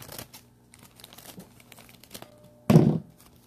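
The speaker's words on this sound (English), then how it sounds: "open the bag" Soft rustling and handling noises, then a loud, close crinkle of plastic as a bag is pulled open.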